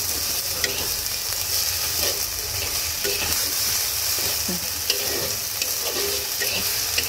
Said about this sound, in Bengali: দুই এক মিনিট আদা রসুন বাটাটা একটু ভাজা হয়ে গেলে এর মধ্যে দিয়ে দেব আমি মাংসের টুকরোগুলো